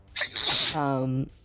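A single sharp human sneeze with a breathy intake, then a short voiced burst, heard up close.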